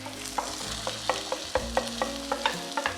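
Chorizo and diced white onion fry in a pan with steady close sizzling, punctuated by regular scraping stirs about every quarter second. No voices.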